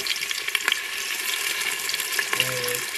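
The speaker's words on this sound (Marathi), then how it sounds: "याच्यामध्ये तेलामध्ये टाकून घेणार आहे. आणि कांदा थोडासा परतून घ्यायचा आहे." Sliced onion sizzling in hot oil, a steady moderate hiss with a few soft clicks, and a faint low tonal hum near the end.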